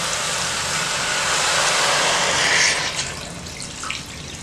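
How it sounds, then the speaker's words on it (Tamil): Water pours steadily into a cooking pot of mutton pulao in a continuous rushing stream, close by, then tapers off toward the end with a few small splashes. "இது வேகிற அளவுக்கு தண்ணி ஊற்றிக்கலாம்."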